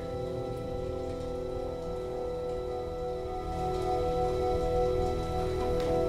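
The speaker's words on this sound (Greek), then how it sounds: "Βρέχει πολύ." Heavy rain falls as a steady, even hiss that continues for several seconds, with a faint low hum running beneath it and the downpour growing slightly stronger midway through.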